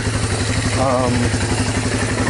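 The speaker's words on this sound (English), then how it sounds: "So it seems to be just idling right along here." A Yamaha Moto4 ATV engine, running on a replacement clone carburetor, idles steadily in a close, even low putter with a faint clattery texture throughout.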